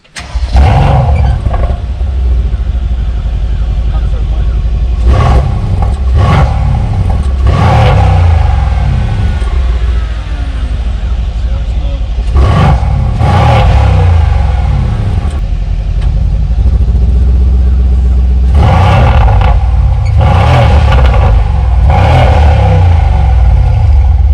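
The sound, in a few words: Mercedes AMG C63S exhaust revving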